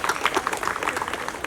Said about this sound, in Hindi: तो एक बार आशीष जी की तालियां बजा दीजिए.